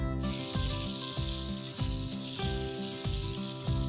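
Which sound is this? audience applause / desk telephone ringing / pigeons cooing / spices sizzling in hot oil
spices sizzling in hot oil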